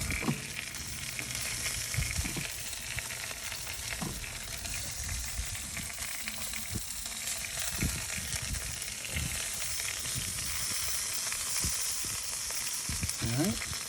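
Butter sizzles on an IPA beer can chicken cooking on a Big Green Egg grill. A steady, close frying hiss runs throughout, with soft crackles and small handling knocks.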